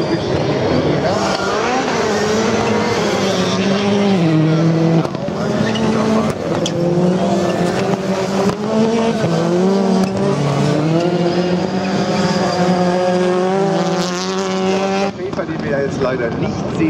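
Skoda Fabia rally cars, including a Mk2, racing at a touring autocross heat in Seelow, with high revving engines rising and falling and brief tire squeals, loud and continuous while a commentator talks over them.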